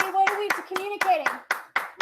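Hands clap in a steady, regular rhythm, about four sharp claps per second, close and crisp, with a voice speaking over the first part.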